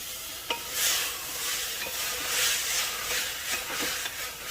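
Carrots, potatoes and peas sizzle in a pan as they are stirred, a continuous close frying hiss broken by periodic scraping strokes of the spoon.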